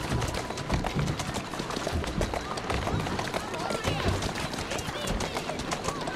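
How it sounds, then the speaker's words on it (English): Horse hooves clip-clop at a steady running pace in Assassin's Creed Syndicate, close and continuous under a busy street mix of crowd, birds and speech. "Who's a good horse?"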